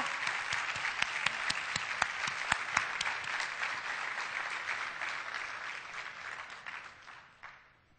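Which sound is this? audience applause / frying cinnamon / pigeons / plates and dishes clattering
audience applause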